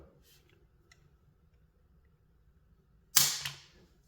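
A pistol trigger breaks during a pull test on a trigger set under three pounds, giving one sharp, loud mechanical snap near the end after quiet, faint ticks and handling noise.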